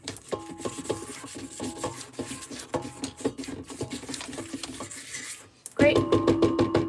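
Cake batter for mini heart cakes scraped and mixed in a bowl, close rhythmic rubbing and scraping strokes under a spoken voice, growing louder and busier near the end.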